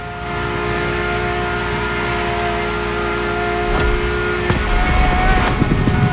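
A car engine in The Crew Motorfest racing game, heard from inside the cabin, holds a steady loud drone that rises slightly as it revs toward the end.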